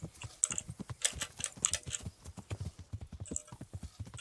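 Horse hooves clip-clop at a steady walking pace in the video game Kingdom Come: Deliverance, a close rhythmic series of hollow knocks with brief gaps between them, alone without talk.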